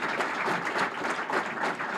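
An awards-ceremony audience at a brain aneurysm foundation gala claps steadily and densely for about two seconds, a continuous wash of applause with no voices over it.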